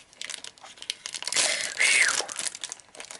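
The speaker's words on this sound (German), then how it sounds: "wir öffnen zuerst die gelbe Tüte" A crinkly yellow plastic bag from a miniature food kit is opened close by, with scattered rustles building to a loud crackling tear and a sharp squeak.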